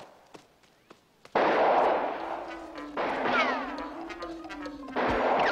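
Sniper fire from enemies perched on rocks in Highlander: The Last of the MacLeods on the Atari Jaguar CD. Three loud, sharp blasts land a second or two apart, each trailing into a noisy wash laced with warbling game tones.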